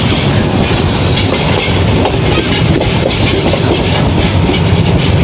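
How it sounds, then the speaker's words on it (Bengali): Jayantika Express passenger train between Sylhet and Sreemangal in Bangladesh, heard from on board as a loud, continuous rumble with steady clattering of wheels on rails and no pauses. "আমরা এখন শ্রীমঙ্গলের দিকে চলে যাচ্ছি জয়ন্তিকা এক্সপ্রেস ট্রেনে করে।"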